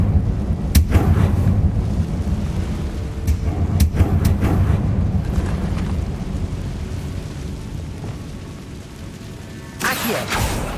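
Confringo blasting-spell explosions in the video game Hogwarts Legacy, with a few sharp booming blasts early and another burst near the end over rumbling combat noise, loud and close.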